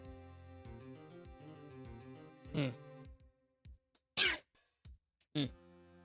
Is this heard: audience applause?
no